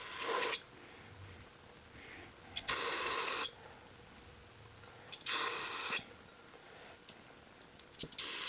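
Short hissing bursts of aerosol cleaner sprayed into the passageways of a Mantis tiller carburetor, four separate blasts of about half a second to a second each, close and loud against a quiet background.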